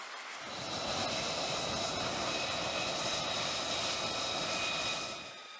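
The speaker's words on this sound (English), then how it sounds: "the catapult is activated, accelerating the aircraft from 0 to over 150 miles per hour in just over 2 seconds" A stealth fighter jet on an aircraft carrier catapult launch: a loud, steady roar of jet engine noise rising in from quiet, holding strong for several seconds, then easing off at the end.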